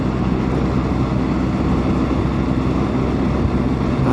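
A motorbike rides on an open road in fine weather, a loud, steady engine drone mixed with wind rush, close and continuous with no pauses.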